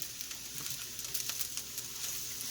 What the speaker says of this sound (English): because you want to hear that nice sizzling, because that means the heat is good